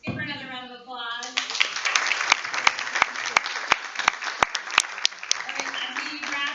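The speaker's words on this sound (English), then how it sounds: "Let's give her another round of applause." An indoor audience applauds at the end of a talk at a session with victim speakers, dense clapping swelling and holding steady after a voice, fairly close and lively.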